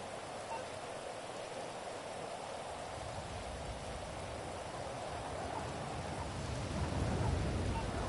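Rain in GTA Online falls as a steady, soft hiss with a low rumble building slightly toward the end, no voices over it.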